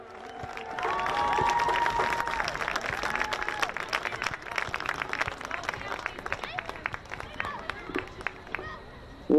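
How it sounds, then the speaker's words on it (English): Home crowd cheering and clapping at a high school girls' soccer game at Pierce Field, a loud sustained roar with whistles and shouts over dense applause, continuing throughout. "So let's cheer extra loud for them tonight."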